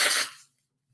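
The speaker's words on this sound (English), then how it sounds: "I'm going to sneeze." A single sharp sneeze bursts out close by and fades within half a second, leaving near silence.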